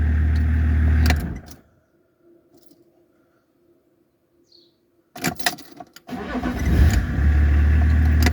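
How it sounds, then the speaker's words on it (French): Hot BMW 325 TDS diesel engine cranks and catches near the end, settling into a loud close idle after a noisy burst and a stretch of near silence. "Elle démarre bien, mais parce que j'ai laissé un peu attendre."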